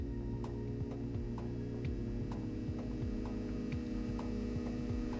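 Steady low electrical hum from a Powerlite Devices B2227 175-watt mercury vapor streetlight warming up, close and continuous with faint periodic ticking throughout and no talking.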